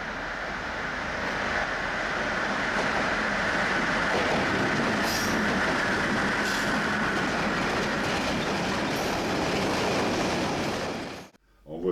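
A heavy freight train rumbles steadily past at close range on a railway, wheels clattering and occasionally squealing, before the noise cuts off abruptly at the end.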